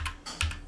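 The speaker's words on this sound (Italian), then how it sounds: "digito qui Inserci Index" A computer keyboard clatters with a few quick, close keystrokes in an irregular rhythm, each a sharp click over quiet room tone.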